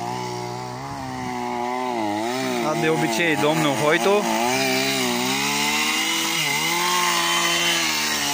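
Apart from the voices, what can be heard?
chainsaw cutting a tree trunk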